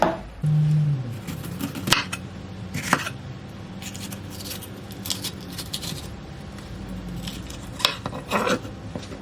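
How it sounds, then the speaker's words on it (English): A knife cuts capsicums into round pieces on a board, with sharp scattered chops and crisp crunches over a low room hum, moderately near and with no voices. "So you want to cut them down where the little grooves are so that you get these nice round pieces."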